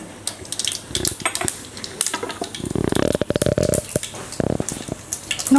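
Mustard seeds go into hot oil for tempering rasam, producing bursts of crackling and popping mixed with metallic clatter of a pan and spoon, irregular and close, with no talk.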